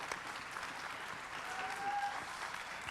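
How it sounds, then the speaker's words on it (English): An audience on a talent show stage applauds with steady, moderately loud clapping throughout, a faint voice briefly audible underneath. "A round of applause. Aplaudamos, por favor."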